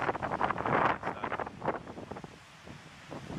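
Wind gusts at a beach during Hurricane Matthew, a broad rushing roar with microphone buffeting, strongest early and then easing off before rising slightly again.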